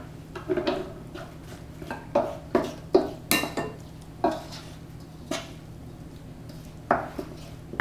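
Clinks and clatters of dishes and utensils while pasta with Genovese dried mushroom sauce is plated, a series of sharp, close, irregular taps and scrapes in a quiet kitchen.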